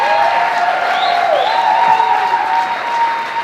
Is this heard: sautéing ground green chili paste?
no